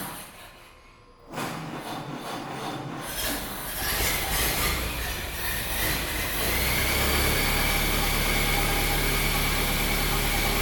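A small gravity-fed vintage engine cranks on the starter and catches, then settles into a steady, loud running drone with a rising hum and mechanical vibration.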